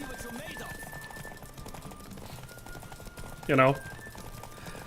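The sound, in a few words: horse trotting in a race, from video game The Witcher 3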